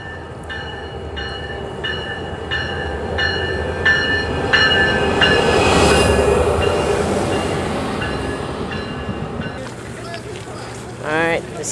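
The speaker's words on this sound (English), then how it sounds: "now everybody is out because the train is coming" An Amtrak train rumbles steadily into a station, with a low mechanical roar and rhythmic clatter, then a rising squeal of brakes near the end.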